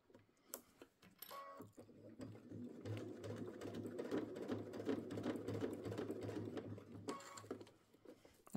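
A sewing machine stitches through cork fabric with embroidery thread in a close, fast, even run of mechanical clatter that starts after a few short bursts and clicks, then stops with a couple of brief handling noises.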